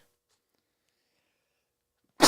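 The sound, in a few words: loud sneeze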